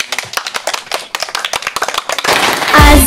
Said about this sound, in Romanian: Să întâmpinăm ursulețul nostru cu aplauze!